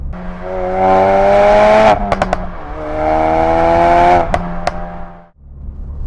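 A Ford Focus RS engine revs loudly and steadily, climbing in pitch, with a few sharp clicks between two long revs, then it settles to a low idle.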